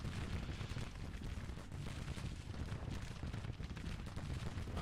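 Continuous battlefield gunfire in a war video game, a dense roar of massed rifle volleys and distant artillery rumbling steadily without pause, fairly quiet overall.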